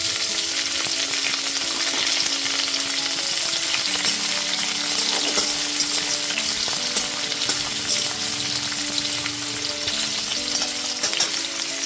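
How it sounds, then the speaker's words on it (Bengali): Chopped beans fry in a pan for fried rice, a loud, even sizzle with faint stirring clinks throughout and no speech. "প্রথমে আমি বিনস কুচিগুলোকে ভেজে নিচ্ছি।"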